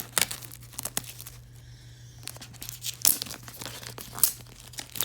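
Plastic wrap on a CD box set being crinkled and torn, close and crisp, with irregular rustling bursts and sharp crackles over about five seconds, no talking.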